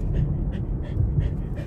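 A dog panting steadily in a parked car on an overcast morning, quick rhythmic breaths repeating about every third of a second, close and clear with no talk.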